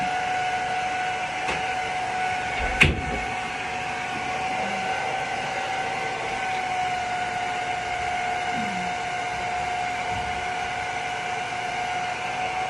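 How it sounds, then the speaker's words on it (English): A hair dryer on low heat blowing a glueless frontal wig dry, a steady soft whirring hiss with a faint tonal whine running throughout, one brief knock near the start. "I'm actually drying it on low heat."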